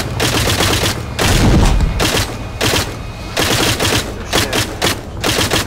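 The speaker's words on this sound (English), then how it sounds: "Something is shooting us" Heavy gunfire in Arma 3 Wasteland mod, a loud, fast series of rattling bursts and shots running throughout with a few deeper thumps, no voices.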